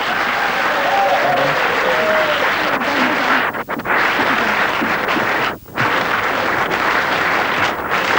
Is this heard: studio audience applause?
yes